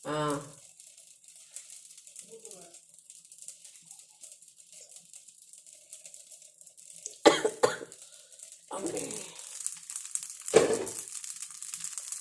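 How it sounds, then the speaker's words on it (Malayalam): Several sharp coughs break a mostly quiet room: one brief cough at the start, then a cluster of louder coughs later, with faint household sounds between. "ഇടയ്ക്കിടയ്ക്ക് ചുമ വരും"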